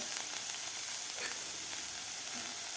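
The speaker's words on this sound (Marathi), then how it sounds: "आता हे 2 मिनटं भाज्या आपल्याला मोठ्या गॅसवर व्यवस्थित परतून घ्यायच्या आहेत." Carrot, green beans and green chili sautéing in a pan on a high flame, a steady close sizzle with faint stirring scrapes and no talk.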